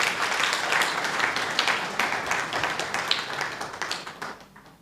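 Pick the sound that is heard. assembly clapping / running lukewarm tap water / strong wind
assembly clapping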